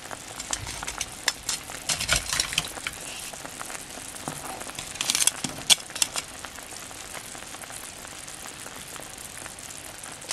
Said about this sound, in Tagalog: ilalagay na natin itong mga alimasag